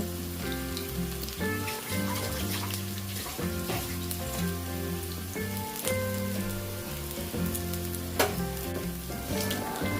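Onion bajji fritters deep fry in oil until golden red, giving a steady, close bubbling sizzle throughout about ten seconds, with small clatters of stirring and no talk.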